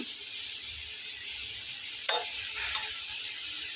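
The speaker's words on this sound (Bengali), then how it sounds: "চুলার আঁচটাকে আমি আস্তে দিয়ে ভেজে নিচ্ছি" Healthy Bengali vegetarian evening snacks fry in a frying pan over a low flame, giving a soft, steady sizzle throughout. A spoon scrapes sharply against the pan once around the middle, and faint stirring follows.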